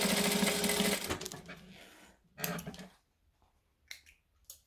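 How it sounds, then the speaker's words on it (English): A sewing machine stitches darts on fabric in short bursts: a fast whirring run at the start, then a brief second burst and clicks as it stops, close and fairly quiet. "we're going to stitch the same on this side"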